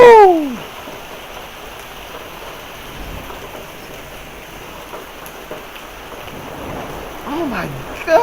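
A severe thunderstorm pours steady rain, with hail reported as corn-sized, as a continuous hissing roar; excited voices break in at the start and again near the end.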